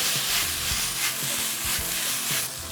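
Thick udon noodles with shiitake mushrooms and ginger sizzle loudly in a pan as chopsticks stir them, a continuous close frying hiss with soft rhythmic scraping pulses.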